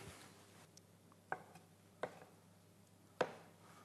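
A knife cuts a log of potato-pumpkin gnocchi dough into pieces, giving three or four soft, separate thuds on a board in a quiet kitchen.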